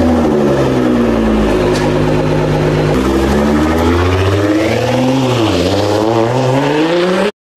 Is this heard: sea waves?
no